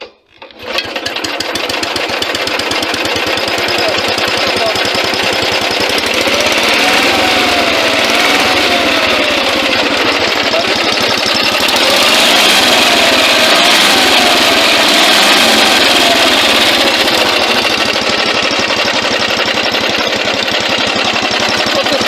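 A ZID engine runs on gas after being started, a loud, close, continuous rattling drone with a fast throbbing beat and slight shifts in pitch, heard alone without speech.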